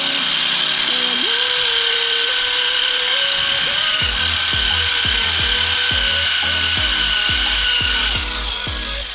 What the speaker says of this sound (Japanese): 今から電動工具を使いたいと思います。